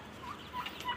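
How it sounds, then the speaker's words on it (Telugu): Farmyard turkeys, including white ones kept among chickens, give a few brief gobbling calls, faint and somewhat distant over a quiet background hiss. "టర్కీ కోళ్ళు"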